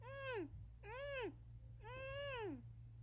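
Three drawn-out cat meows, each a rising then falling harmonic wail with a steady low hum beneath, close and moderately loud with short gaps between calls.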